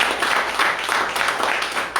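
A church congregation at a French-language worship service claps and cheers for Jesus, a steady, dense wash of applause and voices that holds evenly for the whole stretch.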